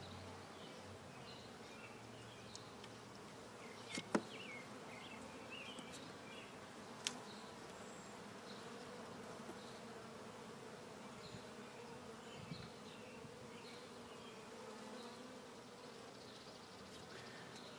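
Honey bees buzz in a constant faint drone around an open beehive during an inspection, joined by a few light clicks and taps from handling the frames and an occasional distant bird chirp.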